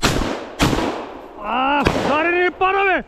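Hunting gunshots at a woodcock: two loud, close shotgun blasts in quick succession, followed by a dog's high whines and yelps nearby.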